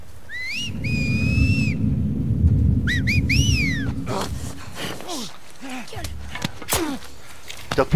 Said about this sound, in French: T'as poussé ton dernier sifflement.